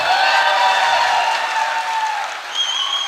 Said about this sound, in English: A big round of applause for our dancer.